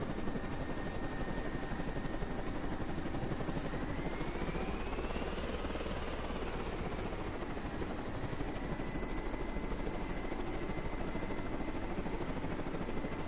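An aircraft launches from the flight deck of a carrier in the video game Carrier Command 2, a steady, dense rotor-and-engine roar with a faint rising whine partway through and no voices.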